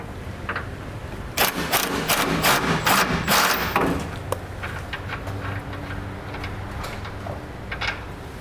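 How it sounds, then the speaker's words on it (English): A bolt on the front of a 2016 Chevrolet is loosened with an 18mm socket while fitting a Curt front mount trailer hitch, giving a burst of rapid ratcheting clicks and knocks for a few seconds, then quieter scattered clicks. "we'll start by removing this bolt using an 18mm socket"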